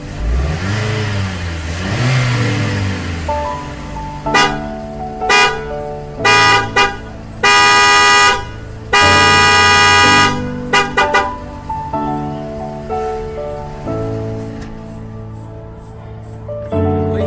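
Outdoors in a school parking lot, a car engine rises and falls in pitch as it revs, then the horn sounds in several loud blasts of varying length, a few short and some held for about a second.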